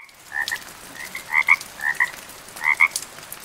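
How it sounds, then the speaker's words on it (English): A frog croaks alone in a quiet, close setting, a string of short paired calls coming in bursts. "A frog came along and sat down beside me."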